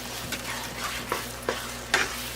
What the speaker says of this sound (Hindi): बटर डालकर अब भूनते जाएं जब तक बटर सेपरेट ना हो जाए।